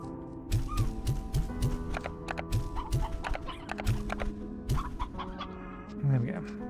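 Painted hens clucking in the video game Slime Rancher 2, with repeated short clucks mixed with clip-clop-like footsteps and clattering game sounds, fairly close, ending in a louder squawk.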